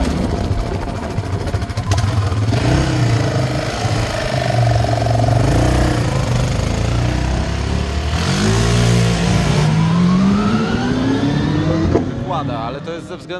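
A Formula Renault race car engine starting with help from a quad bike instead of its usual starter, then revving loudly and rising and falling in pitch close by, with voices around it.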